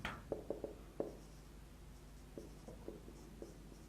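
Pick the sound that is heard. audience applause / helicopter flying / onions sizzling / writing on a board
writing on a board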